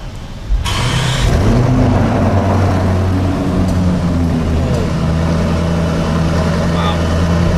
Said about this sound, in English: Let's see what this engine and exhaust sound like.